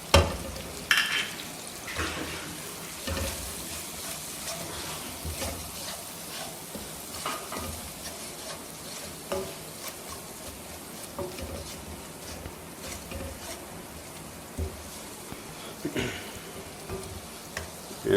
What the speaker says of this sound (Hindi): मसाला जब भी डाला जाता है तो उसको 2-3 मिनट भुना जाता है